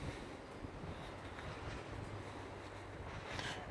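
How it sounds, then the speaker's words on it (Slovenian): A train travelling from Maribor toward Ljubljana, heard as a steady low rumble with broadband rushing noise and some wind across the microphone, fairly faint and distant, continuing throughout without talk. "Slišite vlak, ki pelje proti Ljubljani iz Maribora."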